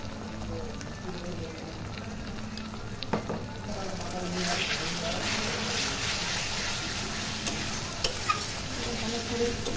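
Spiced mixture fried and stirred in a pan, a close, steady sizzle that grows louder midway, with repeated spatula scrapes and clinks and faint voices in the background.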